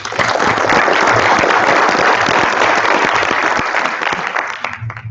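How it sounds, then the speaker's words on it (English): Loud, dense applause from an audience at a lightning talks event fills the room, holding strong for several seconds before tapering off slightly at the end. "One more round of applause."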